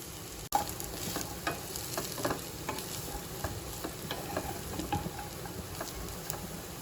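Chopped carrots stir-fried with baby corn and other vegetables in a hot pan, a steady close sizzle with repeated light spatula scrapes and taps throughout.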